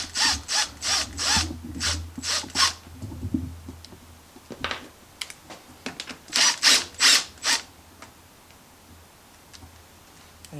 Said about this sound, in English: so now we're going to take off the airbox. It is 2 10mm bolts.